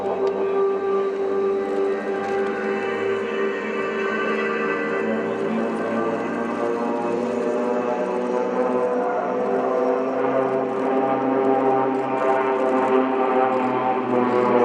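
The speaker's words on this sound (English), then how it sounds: "Is opening its presentation 2018 with a 60 degrees looping, including 9 aircraft in the formation called Flying Diamond" Nine aircraft in Flying Diamond formation fly a 60-degree looping at the RIAT 2018 airshow at Fairford, a loud, steady, layered engine drone that holds without a break throughout.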